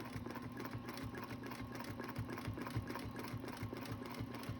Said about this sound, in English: I'm going to just hold on to my ruler nice and flat and keep it flat, and then I'm going to start stitching.